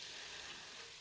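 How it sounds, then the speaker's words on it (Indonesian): Spices for beef curry sautéing in hot oil, a faint, steady hiss of frying that stays even throughout with no stirring strokes or talk. "Kita tumis sampai harum, sampai hilang bau langunya."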